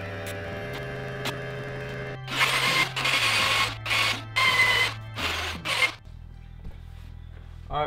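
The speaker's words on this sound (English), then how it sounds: "Got some sandpaper, I need that." Hand sanding with sandpaper on a masonite panel for a DIY fingerboard cave: about six quick raspy back-and-forth bursts in close succession, loud and close over a steady low electrical hum, with no talking.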